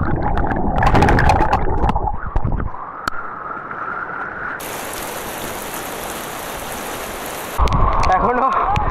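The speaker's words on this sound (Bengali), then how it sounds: "ওপর থেকে ঝমঝম করে বৃষ্টি পড়ছে" Heavy rain pours down at a waterfall near Dudhia, Siliguri, in North Bengal, a loud, steady rushing hiss that fills the middle of the clip, with voices talking before and after it.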